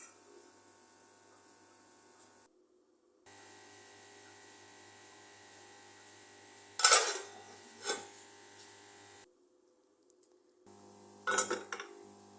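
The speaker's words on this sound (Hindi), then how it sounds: "आहिस्ता आहिस्ता चम्मच चलाएंगे इसमें हम" A spoon stirring potato and egg curry in a cooking pot, giving a few separate scraping, clinking bursts over a steady low hum, with quiet pauses between them.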